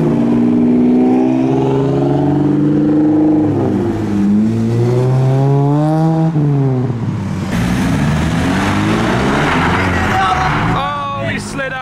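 A modified Nissan R35 sports car leaves a car meet on lowered air ride, its engine loud and close, revving and shifting through rising and falling pitch sweeps as it passes, with voices in the background.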